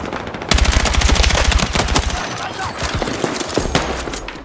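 Rapid automatic gunfire from Battlefield 6, loud and close, a dense burst of shots for about two seconds followed by scattered sporadic shots and impacts in a busy battle soundscape.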